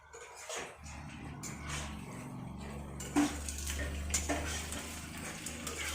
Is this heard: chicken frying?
yes